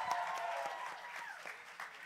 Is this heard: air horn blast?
no